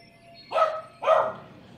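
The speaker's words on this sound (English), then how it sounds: "The dog is barking again" A dog in the room barks twice, two loud close woofs about half a second apart, over a quiet background hum.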